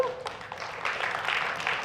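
Part of a lecture audience claps hands in response, a diffuse, moderate spread of clapping with voices mixed in, continuous and fairly even across the moment.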